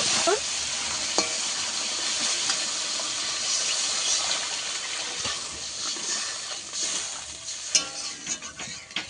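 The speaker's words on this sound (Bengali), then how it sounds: "কষাতে কষাতে এবার অল্প একটু জল দেবো।" Spice paste and potatoes sizzle in a pan for a rupchanda fish curry as a little water is poured in, giving a steady hiss broken by scattered stirring clicks and spatters, with no one talking.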